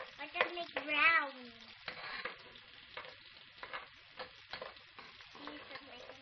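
Onions frying and being stirred in a pan for ginisang ampalaya with sotanghon: a soft sizzle with scraping strokes, while a voice and other chatter come through early on.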